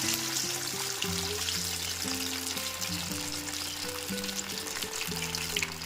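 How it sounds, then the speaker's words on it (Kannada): Fish frying in hot oil for a Kerala-style fish fry, with a steady, close sizzle that runs the whole time beneath background music. No one speaks. "ಈಗ ಇಲ್ಲಿ ಎಣ್ಣೆ ಕಾದಿದೆ, ಹಾಗಾಗಿ ನಾನು ಒಂದೊಂದೇ ಫಿಶಸ್ನ ಇದರಿಂದ ತೊಗೊಂಡು ಹಾಕ್ತಾ ಇದ್ದೀನಿ"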